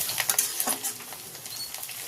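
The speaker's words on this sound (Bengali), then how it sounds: "আবারও একবার নাড়াচাড়া করে ভেজে নিচ্ছি।" Onion and curry leaves fry in hot oil while being stirred, a brief burst of close sizzling and scraping with quick irregular pattering.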